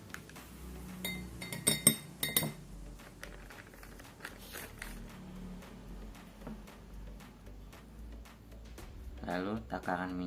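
A spoon clinks lightly against a bowl or container a few times while measuring rice flour, soft and close, with faint rustling and quiet background sounds.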